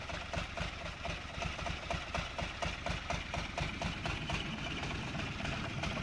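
A Wickham trolley engine in a train simulator game runs at a steady, moderately loud chugging rhythm, a low mechanical rumble with regular pulses and no talk over it.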